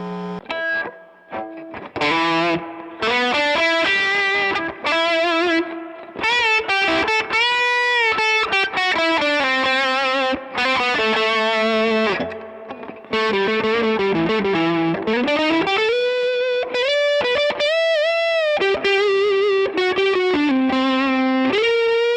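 Electric guitar played through channel 2 of a Mesa Boogie Mark V amplifier with reverb turned up, a loud, continuous stream of distorted sustained notes, bends and melodic runs with brief gaps, ringing out alone.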